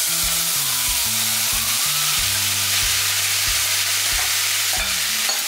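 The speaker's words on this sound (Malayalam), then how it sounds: "നമുക്ക് മാരിനേറ്റ് ചെയ്ത ചിക്കൻ ഇതിലോട്ടിട്ട് ഒന്ന് ഫ്രൈ ചെയ്തെടുക്കാം" Marinated chicken sizzles steadily in hot oil for parotta shawarma, a constant loud frying hiss with occasional clanks of a utensil stirring the pan.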